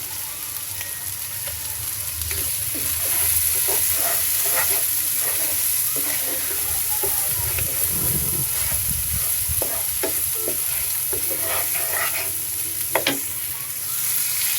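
Steady sizzling of ingredients frying in a pan, with bay leaves and salt added before water lily stems go in, punctuated by scraping stirs and small crackles, close and continuous.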